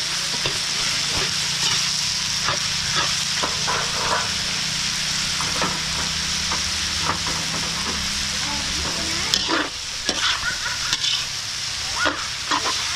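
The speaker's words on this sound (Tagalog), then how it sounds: "Gigisa muna natin bawang sibuyas, balat, saka Tuwalya ng baka." Garlic, onion, beef skin and tripe sauté in a large catering pan, giving a continuous loud sizzle broken by frequent scraping stirs and clanks of a spatula, up close and without voices.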